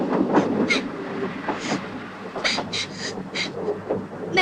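A train runs along the rails with rhythmic clicking and clacking bursts under a rumbling rush, fairly close and loud, with no talk.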